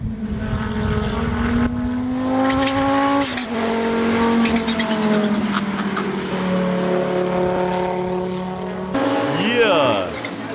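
Audi IMSA GTO race car with a turbocharged inline five-cylinder engine, loud and fairly close, rising and falling in pitch through several gear changes as it races past, with people talking over it.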